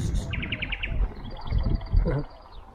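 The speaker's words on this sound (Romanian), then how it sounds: "Ascultați păsărica asta." A small bird sings a quick series of bright, rapid chirps nearby, repeating a short trill, with a person speaking quietly underneath.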